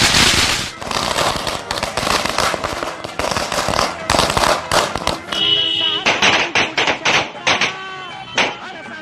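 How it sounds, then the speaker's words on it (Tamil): Firecrackers burst in celebration outside a newly reopened liquor shop in Kolar, Karnataka: a dense, loud run of sharp crackling pops and bangs, with whistling shots near the end and people's voices mixed in. "மதுப்பிரியர்கள் பட்டாசு வெடித்து கொண்டாட்டத்தில்"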